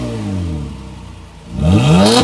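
A 9th-generation Honda Accord V6 coupe fitted with a Borla axleback exhaust revs up close by, the engine note dipping briefly before climbing sharply into a loud, rising roar.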